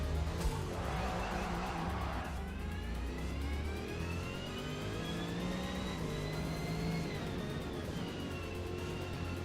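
Racing car engine in Forza Motorsport lapping Mount Panorama on low-grip tyres, a loud sustained engine drone with rising gear-shift pitch sweeps and tyre squeal, steady and close throughout.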